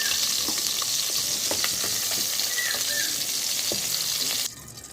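Pointed gourd (potol) fries in oil with a loud, dense sizzle and occasional stirring clinks, then the hiss suddenly drops away near the end.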